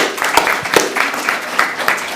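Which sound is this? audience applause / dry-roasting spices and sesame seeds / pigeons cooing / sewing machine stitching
audience applause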